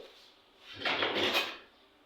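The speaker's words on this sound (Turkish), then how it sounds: "Çekmeceye bakayım." A drawer is pulled open and rummaged through, a short burst of wooden sliding and rattling of loose contents, close and moderately loud, fading back into a quiet room with no talk.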